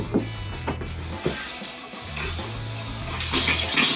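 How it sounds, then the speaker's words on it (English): Water is turned on and runs from a tap, opening with a few mechanical clicks and knocks before settling into a steady hiss of flowing water that grows louder toward the end. "When you first turn the water on."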